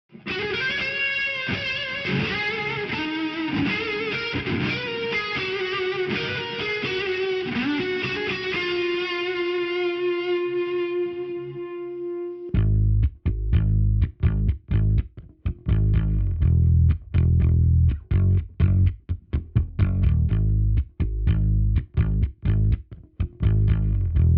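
Sustained distorted electric guitar chords ring out with reverb, then give way to a punchy, rhythmic bass line with drum-like hits, both recorded through a Universal Audio Volt 276 with amp and cabinet effects.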